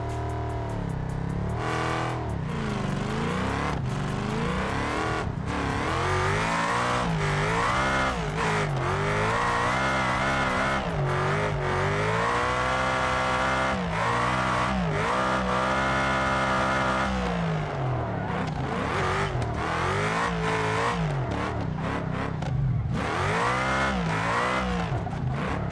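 Car engine in the BeamNG driving game revving loudly and continuously, pitch sweeping up and down through gear changes with occasional tire squeal, close and dominant throughout.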